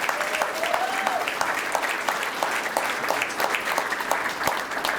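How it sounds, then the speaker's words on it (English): Steady applause from an audience at the opening of a Holocaust museum's remembrance theater, many hands clapping in a dense continuous wash with individual claps standing out, a faint whistle or voice briefly heard within it. "Let's give them a big round of applause,"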